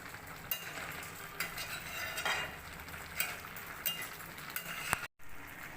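Quiet scraping and clinking of a utensil stirring fish curry with rui fish and tomato in a pan, with a soft sizzle underneath and occasional sharper metallic taps, heard up close without talk.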